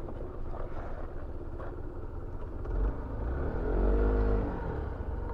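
50 cc scooter engine while riding, a low buzzing drone under wind rumble that swells into a louder rev near the end.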